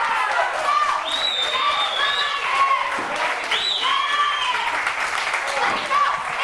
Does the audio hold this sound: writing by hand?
no